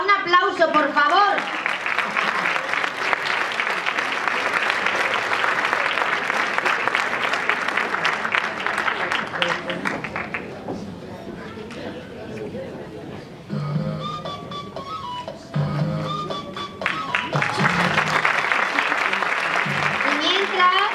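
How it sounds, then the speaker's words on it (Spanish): Sustained audience applause for Esther Ortega at a women's council inter-association event, loud and dense at first, thinning midway with talk mixed in, then swelling again near the end. "Esther Ortega, un aplauso, por favor."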